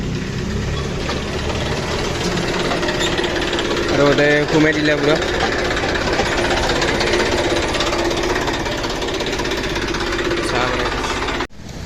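A tractor engine with a fault chugs loudly and steadily throughout while a person talks over it. The engine noise drops off abruptly near the end.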